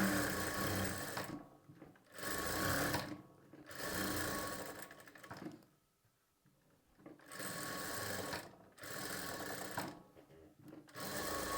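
A sewing machine stitches fabric in bursts of fast, steady whirring, with four runs split by short pauses and one longer pause, and sounds fairly close but soft.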